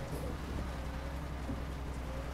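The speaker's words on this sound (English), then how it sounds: "it's actually raining in Dover at the moment" Steady, soft rain hiss with a low rumble underneath in the video game Euro Truck Simulator 2 near Dover, continuous and even throughout, no voices.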